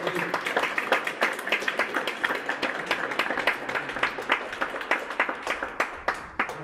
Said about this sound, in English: Let's give one more round of applause for